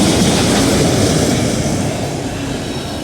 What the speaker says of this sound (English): Oh, here comes the end of the train